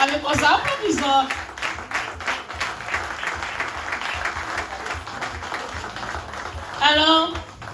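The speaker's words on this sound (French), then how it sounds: "applaudissons" An audience at a political campaign list presentation in Saint-Louis applauds steadily while a voice speaks over the clapping at the start and end.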